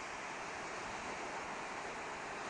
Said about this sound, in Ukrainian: почекаємо ще доки одна хвиля добіжить